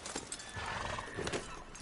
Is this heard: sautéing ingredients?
no